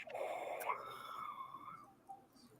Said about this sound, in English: Did you just yawn